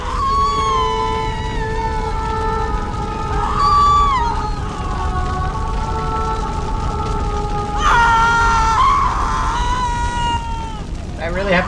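A burning creature in the Pathologic 2 video game lets out a drawn-out, wavering scream with shifting tonal cries over a steady game ambience, swelling loudest near the end of the clip.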